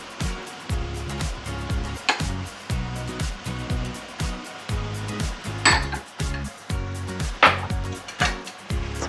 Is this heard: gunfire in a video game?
no